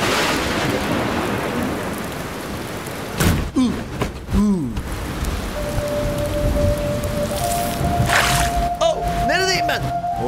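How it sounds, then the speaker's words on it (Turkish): Steady cartoon rain hisses throughout, dense and constant, while voices speak over it and a sustained tone sounds in the second half. "belki de yağmur sabaha kadar durmayacak"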